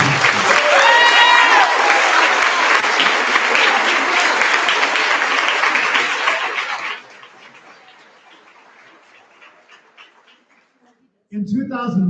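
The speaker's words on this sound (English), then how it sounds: "I invite you to join me in a round of applause for your teachers" Loud, full audience applause for teachers at a science and engineering fair awards ceremony rolls on for several seconds, then cuts to a faint murmur and near silence before a voice returns.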